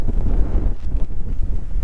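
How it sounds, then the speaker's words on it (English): Strong gusty wind buffets the microphone outdoors in a garden among apple trees, a loud continuous low roar with rustling surges and no voices. "Look how windy it is."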